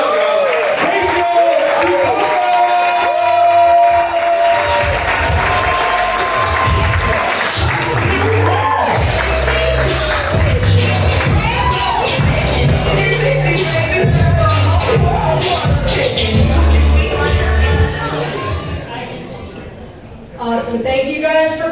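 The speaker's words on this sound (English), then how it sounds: "Start clapping for her right now." A comedy club audience at The Mellow Monkey claps and cheers steadily in loud, sustained applause, while a host's voice talks over the crowd throughout before the noise fades near the end.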